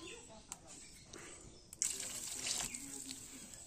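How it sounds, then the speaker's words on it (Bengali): Water is poured into a potato and pointed gourd curry in a pan: a soft, steady, moderately loud hiss that starts partway through, after a few light clinks. "পরিমাণ মতো জল দিয়ে দিয়েছি"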